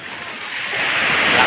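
Heavy sea surf rushes and builds toward a shore, a continuous roaring wash that grows slightly louder, mixed with wind noise.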